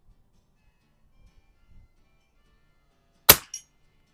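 A single sharp crack from a Rochester Precision air rifle firing a CPHP pellet at a turkey target 25 yards downrange, followed a fraction of a second later by a fainter metallic hit, with quiet faint handling noises beforehand.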